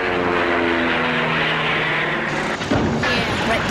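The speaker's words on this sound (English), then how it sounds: "that energy can be released to make the airplane fly" A rubber-band-powered propeller toy airplane flies with a loud, steady buzzing drone that holds throughout and shifts briefly near the end.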